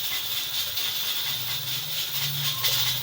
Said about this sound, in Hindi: चिकन हमारा सॉटे हो चुका है। अब हम इसके अंदर ये रिंग शेप में कटे हुए प्याज डाल देंगे